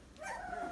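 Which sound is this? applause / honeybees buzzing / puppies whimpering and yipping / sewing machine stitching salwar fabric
puppies whimpering and yipping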